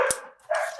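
A couple of dog barks, close by and brief, with a short pause between them.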